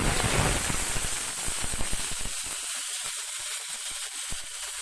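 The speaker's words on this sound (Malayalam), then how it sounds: "വെള്ളത്തിൽ നിന്ന് എടുത്തത് കൊണ്ടാണ് നന്നായിട്ട് പൊട്ടിത്തെറിക്കുന്നത്." Wet bean leaves sputtering in hot coconut oil with mustard seeds, a loud hissing sizzle that settles into a steady fry with scattered sharp pops and crackles close by.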